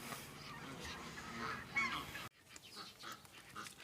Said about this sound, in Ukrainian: мускусні качки вже починають один до одного заігрувати